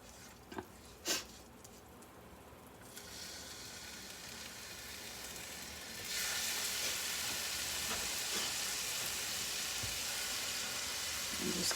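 Jarred garlic sizzles in a hot pan, a fairly quiet steady fry that swells noticeably louder about halfway through and keeps hissing to the end, with a few faint clinks early on.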